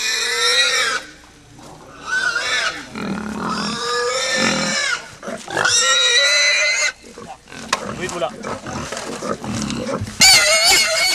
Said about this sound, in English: as the stake pierces all the way to the heart, the pig squeals